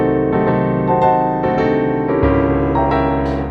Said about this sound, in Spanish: Si fuera una séptima disminuida, estaríamos hablando del acorde completamente disminuido, que sería este.